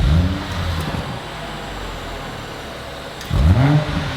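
A BMW M135i with a tuned exhaust revs twice, each a sharp rising engine blip close by, separated by a steady idle rumble.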